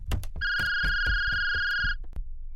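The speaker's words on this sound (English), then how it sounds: "her phone rang from the kitchen" A phone in a kitchen rings with a steady electronic tone held for about a second and a half over a pulsing rhythmic beat, loud and near, with no voices.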